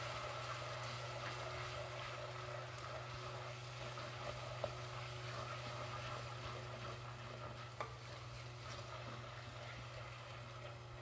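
Onions frying in a pan for chickpea kofta, a faint, even sizzle with soft stirring scrapes over a steady low hum, no talk, a couple of small clicks.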